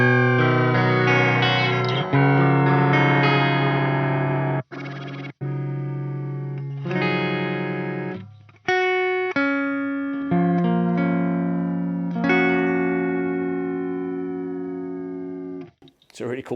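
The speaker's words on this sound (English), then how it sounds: "It's a really cool filter sound." Electric guitar runs through a Boss SY-200 synth pedal with a filter patch and a touch of reverb, giving sustained, swept tones and notes that ring and decay, broken by brief pauses, with no talk.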